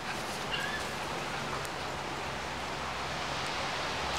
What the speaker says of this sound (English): It's yucky out here, it's drizzly.